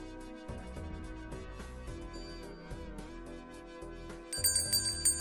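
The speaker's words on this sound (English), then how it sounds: "Okay, here's the bell." A bell sound effect played during a live stream of the card game Balatro rings out clearly over continuous game music, arriving as a bright burst of chiming tones near the end.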